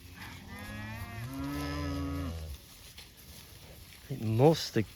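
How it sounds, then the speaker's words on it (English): Cattle moo in a herd that has two or three newborn calves on a farm pasture, with drawn-out lowing calls up close followed by a shorter, higher bawl, with a person speaking faintly in the background. "There's 2 or 3 calves in here that were born last night."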